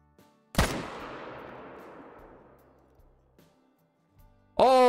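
A single loud M1 Garand rifle shot in Call of the Wild cracks near and booms, then a long reverberating tail fades away over several seconds before a voice cuts in at the end.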